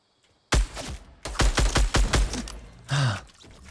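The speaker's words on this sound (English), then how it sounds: "I'm getting shot at from over here" Rapid bursts of gunfire in the Fortnite battle royale game, a near string of sharp shots fired in quick clusters with short gaps between volleys, mostly without voices.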